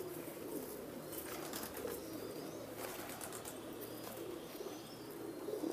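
A flowerlike fancy pigeon of a prized Jammu and Kashmir breed coos softly amid a steady hum of other birds, with faint chirps and light wing rustles and no talk.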